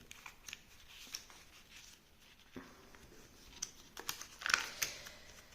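Paper banknotes being handled and folded, soft rustles and crinkles in short uneven bursts with a few sharper crisp snaps near the end, quiet and close, with no talking.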